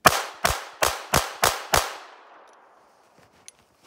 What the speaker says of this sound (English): I'm going to empty the remaining rounds just to make sure that we have good reliable ammunition here. I'm gonna shoot that dead tree back there.